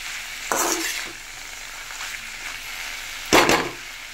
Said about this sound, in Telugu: బాగా ఫ్రై చేసుకోవాలి. ఇందులో చూడండి అలా ఫ్రై అవుతుంది.